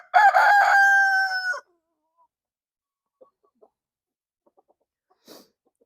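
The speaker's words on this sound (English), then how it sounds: "the Leghorn crosses and Zinzin and Lily came out, but the Brahmas and Miss Luna there, those are the 3 oldest ones, they waited a while" A rooster from a backyard flock of Leghorn crosses and Brahmas gives one loud, close crow, followed by near silence with a few faint clucks and a short distant call.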